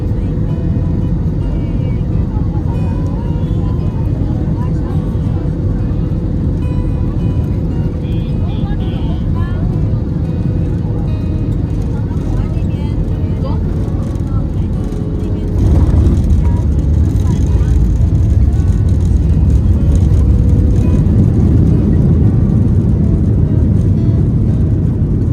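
Inside the cabin of an Air China airliner descending toward Hong Kong's Chek Lap Kok airport, a constant low engine and airflow rumble fills the background, growing slightly louder and heavier partway through.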